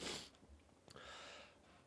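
A single human sneeze bursts out at the start, followed by a brief sniff and a softer breathy exhale, close and quiet, with no talk.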